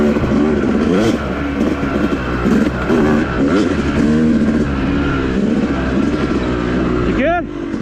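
Yamaha YZ250 dirt bike with a paddle tire ridden on the Enoree OHV cycle trail; the engine is loud and close, its pitch climbing and dropping continuously as the rider works the throttle.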